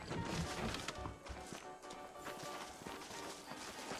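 Horse hooves clip-clop steadily in the Western video game Red Dead Redemption, a continuous busy rhythm of hoofbeats near and fairly loud, with faint voices mixed in.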